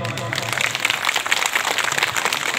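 A crowd applauds at a spiritual talk, with steady, dense clapping running under a voice throughout.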